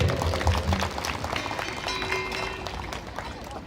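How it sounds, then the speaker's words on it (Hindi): An audience at a Hare Krishna cultural program in Kamothe claps and cheers in a dense, busy burst that gradually settles, with some voices mixed into the crowd noise. "तालियां बजाइए जोर से।"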